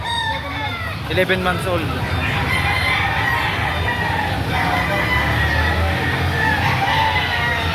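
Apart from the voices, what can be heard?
bull stag rooster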